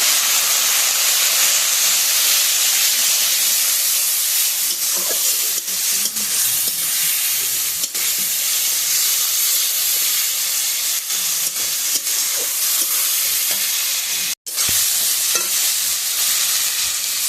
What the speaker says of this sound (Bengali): অল্পটুক জল দিয়ে দিলাম, মশলাটা ভাজবো।